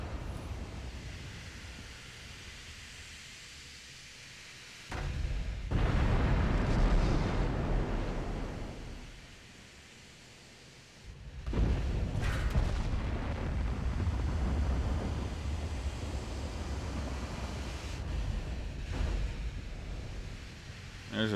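Naval guns firing and shells striking in the warship game Ultimate Admiral: Dreadnoughts, with heavy booming bursts that rise, fade and return over a constant low rumble of wind and sea, no voices.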